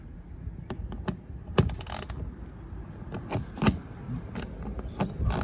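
A 10 mm socket wrench tightens a fastener on a Tesla Model Y mud flap, making scattered sharp clicks and metallic rattles close by over a low rumble.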